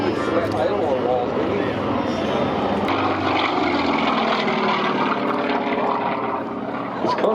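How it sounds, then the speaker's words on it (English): Big Pratt & Whitney-engined propeller warbird doing a low aileron roll at an airshow, its loud, steady engine drone and prop roar filling the air throughout, with a commentator talking over it. "Rolling an aeroplane around like that, and there's a bit of prop wash he's got to avoid from those big Pratt & Whitney engines."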